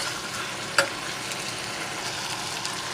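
Jerk chicken neck curry sizzles in a pot while a spoon stirs it. One sharp clack of the utensil rises out of a steady close frying hiss, and nobody talks.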